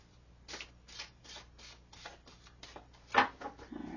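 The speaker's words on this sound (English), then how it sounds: "All right, one more shuffle and then I'll cut them." Playing cards riffle-shuffled, a series of quick papery bursts at a steady rhythm, close and fairly quiet, ending with a sharper flutter.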